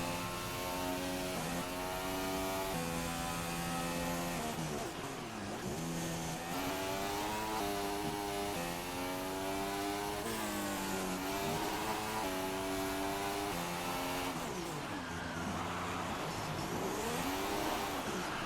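Formula 1 car engine at high revs during an onboard lap in the F1 2016 video game, a continuous loud whine rising and falling through gear shifts, with a brief lift around the middle and a spin at the end.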